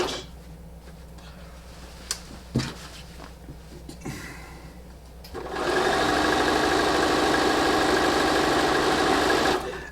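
Sewing machine running steadily for the last half, stitching an appliqué quilt border seam with a quarter-inch seam allowance, loud and continuous after a few light handling knocks and clicks.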